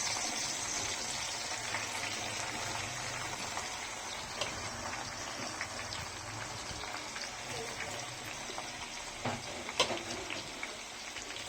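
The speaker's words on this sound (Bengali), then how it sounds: "সবগুলো পেঁয়াজই আমি তেলের মাঝে ছেড়ে দিচ্ছি" Sliced onions frying in hot oil in a wok make a steady hiss and crackle, fairly faint and continuous, with occasional small pops.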